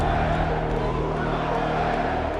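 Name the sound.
hostile arena crowd at UFC 237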